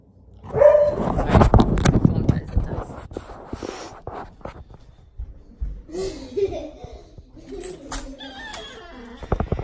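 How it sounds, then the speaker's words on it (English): An old dog barks and growls at two younger dogs playing, loud close bursts at first, then scattered yips and whines from the playing dogs continuing fainter. "The old dog is mad about the 2 younger ones playing"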